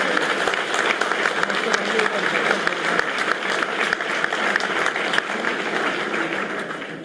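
An audience at an inauguration ceremony in an auditorium breaks into loud, sustained applause, a thick, even roar of many hands clapping that holds steady and eases off slightly at the end.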